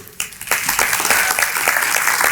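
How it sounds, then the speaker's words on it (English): A crowd at a State of the County and State of the City breakfast address breaks into steady applause, dense clapping that starts abruptly and continues loudly throughout. "please give a very warm round of applause to Michael Vanover"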